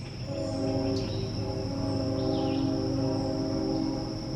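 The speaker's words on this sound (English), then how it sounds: "Wow, train off in the distance this morning." A train hums far off on a summer morning, its horn a long steady drone, while insects chirp faintly in the quiet outdoor background.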